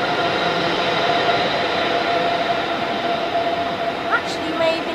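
Steady rumbling of a DB class 101 electric locomotive train at Hamburg Hauptbahnhof, with a constant electric hum and rolling rail sounds, fairly close, with a faint squeal near the end.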